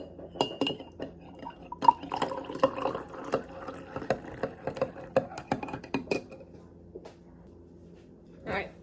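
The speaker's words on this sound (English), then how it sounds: "And then I'm gonna add in some chai tea I'd made" Homemade chai tea poured into a drink, with clinks of glass and dishware and short splashy fill sounds in a quiet kitchen, fairly close and moderate in level.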